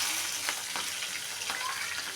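Cumin seeds and roasted peanuts fry in hot oil, giving a continuous even crackling sizzle with faint stirring ticks, close and alone.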